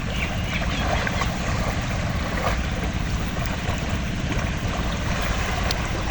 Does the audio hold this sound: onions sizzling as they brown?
no